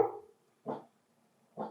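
Dogs barking nearby, one long bark followed by two short separate barks spaced apart, fairly faint in an otherwise quiet room.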